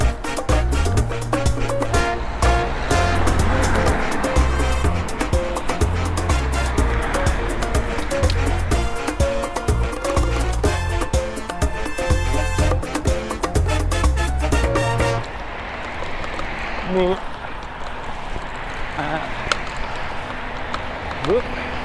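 Road traffic roaring beside the A63 while cycling, a loud, continuous rush of passing vehicles with occasional horn-like toots and heavy wind buffeting on the mic, a voice talking beneath.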